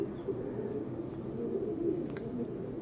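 A pair of golden-eyed pigeons, one male and one female, cooing softly in low, repeated murmurs, faint and close against a quiet indoor background.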